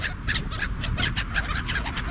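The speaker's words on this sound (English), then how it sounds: "We got pigeons, herring gulls, crows, silver gulls." City birds including pigeons, herring gulls, crows and silver gulls calling on a foggy street, repeated squawks and cries close by, overlapping in a busy, steady chorus without talk.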